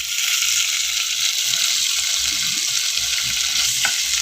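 Mawa, a milk solid, frying in a little ghee in a pan over a low flame for a Holi gujiya filling, giving a steady soft sizzle with faint stirring scrapes, close and continuous, with no talking.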